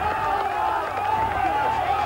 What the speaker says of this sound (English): All the cheers for Sid Barris, the pats on the back are coming.